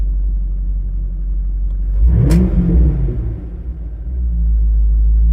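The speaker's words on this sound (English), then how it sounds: "We'll let it idle for a second till it gets warm, and we'll blip on the throttle" A car engine fitted with MSD/Holley parts idles with a steady low rumble, then takes one quick throttle blip that swells and falls back to idle, loud and close with no voices.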